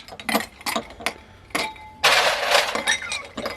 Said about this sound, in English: Crazy ice cubes, you know?